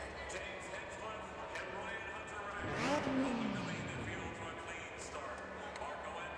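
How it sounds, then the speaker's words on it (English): A DTM 95 race car at Indianapolis sweeps past with its engine note rising then falling, fairly faint against a steady background hum. "Since we have a car running"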